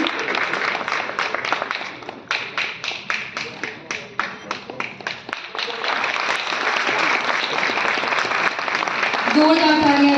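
Audience at an evening public event applauding loudly, dense sustained clapping from a large crowd that briefly breaks into sharper individual claps, then swells back into a full continuous roar.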